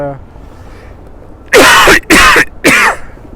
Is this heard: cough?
yes